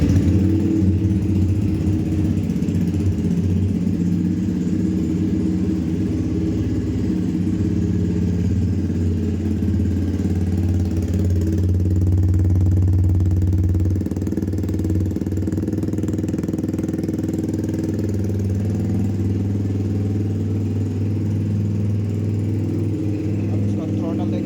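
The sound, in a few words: Yamaha R15 V2 with Akrapovic exhaust idling without dB killer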